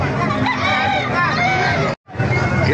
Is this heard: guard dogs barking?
no